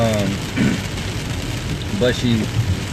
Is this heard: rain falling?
yes